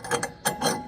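A ratchet with a 19 mm socket tightens a castor wheel bolt, making a few quick, close clicking bursts of pawl ratcheting in short strokes.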